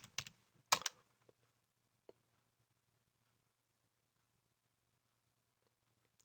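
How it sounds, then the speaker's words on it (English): A few quick computer keyboard keystrokes typing a short word, followed by a single sharper press of the enter key, then near silence with faint low hum. "We'll type in yes and then press enter."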